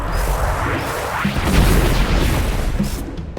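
Explosions boom and rumble through a dense, continuous roar in the Hi-Fi Rush action game, with heavy low-end blasts blending into crashing debris for several seconds and no talk.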